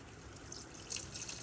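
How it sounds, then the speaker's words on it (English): Water poured into a pot of Ghanaian groundnut soup with goat meat and cow foot, a soft steady liquid trickle and splash close by that swells slightly near the end, with no talking. "I added a little bit of water"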